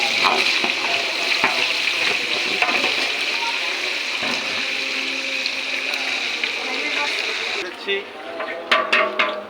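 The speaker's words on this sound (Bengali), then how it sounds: "আলু উঠানোর পরে বেরেস্তাগুলোতে দিয়ে দিচ্ছি। বেরেস্তাটা বাদামি কালার করে ভাজবেন।" Sliced onions fry in hot oil in a pot, giving a steady, loud, bubbling sizzle. A few clinks of utensils come near the end.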